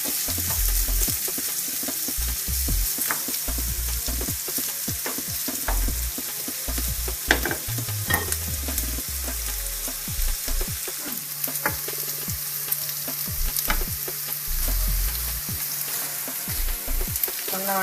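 Onions fry and sizzle in a pan, a steady close crackle with scattered pops and scraping stir strokes throughout, no talking.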